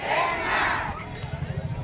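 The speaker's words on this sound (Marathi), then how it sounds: "सगळ्यांनी जयघोष करायचा आहे भानुदास आवाज जरा मोठा भानुदास" A large crowd of pilgrims chanting and cheering in unison during a horse ringan at the Pandharpur yatra, a loud massed roar of voices that eases into rhythmic pulsing chants.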